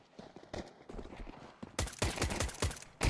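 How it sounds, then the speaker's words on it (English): Footsteps in a competitive Counter-Strike match: quick, rhythmic steps that build into a louder, denser run of clattering footfalls toward the end, with no commentary over them. "Clutch have heard all of those footsteps"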